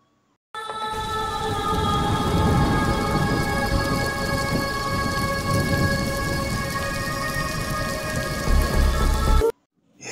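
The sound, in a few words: heavy rain falling, sound effect in a Bengali horror story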